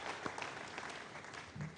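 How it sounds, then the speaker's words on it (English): An audience at an Ariane 5 launch event for the ATV2 Johannes Kepler spacecraft applauds, a quiet, steady patter of clapping hands throughout, with faint voices mixed in. "And let's applaud all of this."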